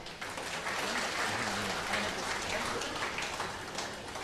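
An audience at a comedy debate gives a steady burst of clapping, dense and even from start to finish with no talk over it.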